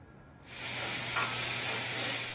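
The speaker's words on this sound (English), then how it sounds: "the woks are fired up and the food is sizzling as orders come in nonstop" Food sizzling in woks in a busy American Chinese restaurant kitchen in San Francisco: after a brief quieter moment, a loud, steady hiss of frying swells up and holds, with no voices.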